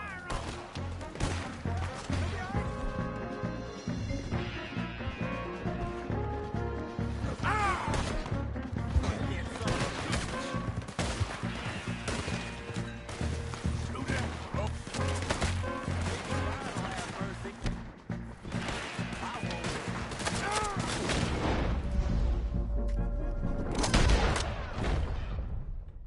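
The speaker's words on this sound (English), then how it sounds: "Open fire on them." Gunfire in a Wild West shootout in Red Dead Redemption 2, rapid cracking shots rattling off in dense bursts over game music and shouted character voices, continuing loudly throughout before a heavier low thump near the end.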